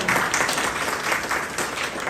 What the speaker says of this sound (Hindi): जोरदार तालियों से उनको करें